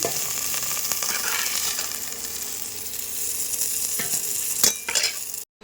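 Potato pieces fry in hot oil with bay leaf and cumin, giving a loud continuous sizzle with crackling and occasional stirring scrapes near the end.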